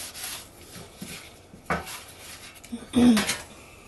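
Butter is rubbed over a baking pan for saltine toffee, giving soft scraping and rubbing strokes with a few light metallic knocks, close and intermittent.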